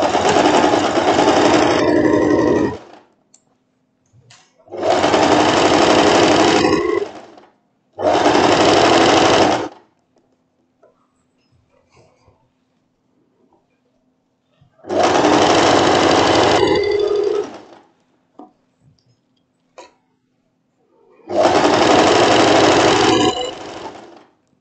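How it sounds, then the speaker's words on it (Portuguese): A sewing machine stitches the tunnel for an elastic waistband on a tricoline-with-elastane wrap dress, in five loud separate bursts of running stitches with quiet pauses between them. "agora eu vou costurar o outro lado do meu túnelzinho para passar o elástico"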